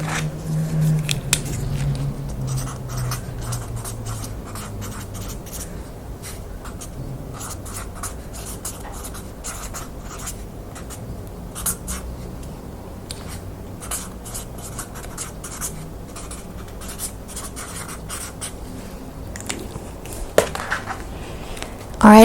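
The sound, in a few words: writing something down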